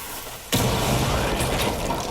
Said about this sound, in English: You're not immune to its explosion.